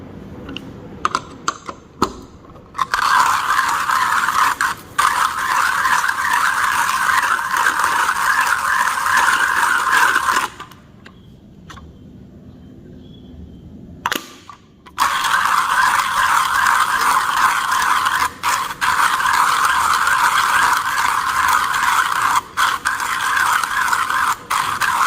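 Eugenioides coffee beans crunch through a coffee grinder in a close, loud, rattling burst that pauses for a few seconds of near silence, then resumes grinding steadily, with small clicks and knocks around the stops.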